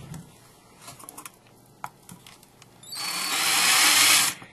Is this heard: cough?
no